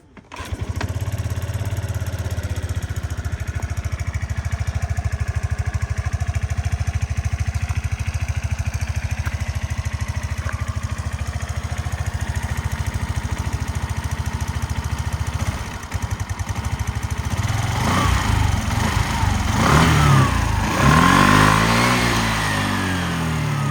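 A Suzuki Address V125S scooter engine starts and settles into a steady, close idle for most of the run. Toward the end the throttle is blipped several times, giving rising and falling revs.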